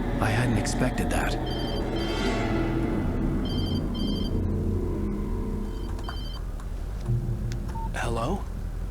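A telephone rings in the video game Alan Wake, with short electronic ring bursts repeating at regular intervals over a low ambient rumble while a voice talks.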